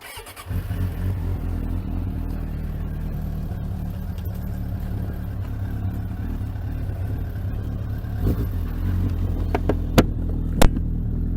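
A Suzuki project motorcycle being ridden after final assembly, its engine a steady close drone throughout, with a few sharp knocks or clicks near the end.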